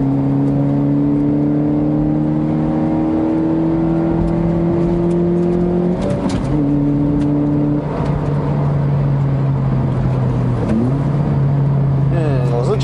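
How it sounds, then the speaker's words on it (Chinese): Honda CR-Z 1.5L hybrid with six-speed manual, driven at full throttle in Sport Mode: engine drone rising steadily in pitch through the gears, with a brief dip at a shift, heard from inside the cabin. "地板油门哦。"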